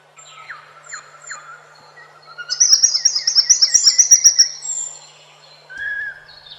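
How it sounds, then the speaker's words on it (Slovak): Eurasian pygmy owls in a forest during the March breeding season, a male giving its typical call: a rapid series of clear, high, piping notes in a rising, rhythmic run, with scattered softer chirps before and after, heard alone at moderate distance. "Tokanie kuvičkov, ktoré sa vyznačuje typickým volaním samčeka"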